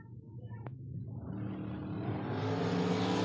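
A Corvette bracket drag car launches hard down the strip, its engine rising from a low rumble into a loud, building roar that swells steadily in pitch and volume.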